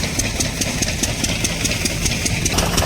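A tractor engine idles steadily on a village farm, a continuous mid-to-low rumble with regular ticking pulses running evenly throughout, close and fairly loud, with no talking.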